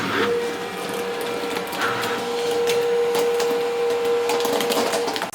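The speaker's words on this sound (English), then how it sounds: "So we're just printing the white layer now." An Epson DTG printer laying down the white ink layer for a DTF transfer: a steady mechanical whir with a sustained tonal hum and occasional faint clicks of the moving print carriage, continuous and close.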